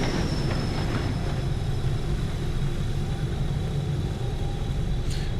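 A Class 50 diesel locomotive on the Weardale and Teesdale line drones close by with a steady, whining, vacuum-cleaner-like engine hum and a deep rumble.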